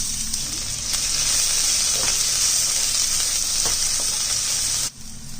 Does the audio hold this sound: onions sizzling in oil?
yes